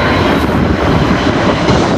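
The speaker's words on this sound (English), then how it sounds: "The monster plane appeared over the Perth Hills" An Antonov An-225 Mriya, a huge six-engine cargo plane, flies over the Perth Hills before landing, producing a loud, steady, broadband engine roar that fills the air without letup and has no voices over it.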